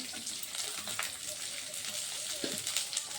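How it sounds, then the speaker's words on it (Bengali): Garlic, onion and ginger fry in a little oil, giving a soft, steady hiss and crackle close by, with a faint clink around the middle and no talking. "এগুলোকে আমি একটু সামান্য তেলের মধ্যে একটু ভেজে নেব, সামান্য, বেশি লাগবে না"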